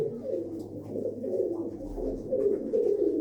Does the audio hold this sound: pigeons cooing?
yes